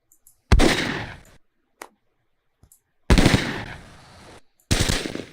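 Gunfire from soldiers in the PC war game Close Combat: three loud, sustained bursts of automatic fire crackle close up, separated by gaps of silence and a couple of short isolated shots.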